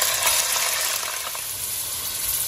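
Tikka boti meat hits hot oil in a karahi over high heat, setting off a loud, continuous close-up sizzle and crackle of frying throughout.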